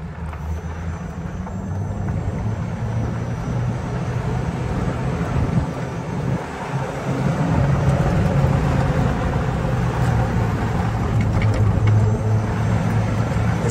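A 2022 Epic E40L electric golf cart driving along at speed, producing a steady low rumble of tyres and wind noise that grows slightly louder partway through, with no voices.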